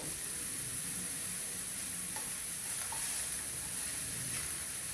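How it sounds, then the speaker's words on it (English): Continuous close sizzling of plant-based bacon frying in a hot pan, a steady crackling hiss with no talking. "And look at them sizzle, sizzle."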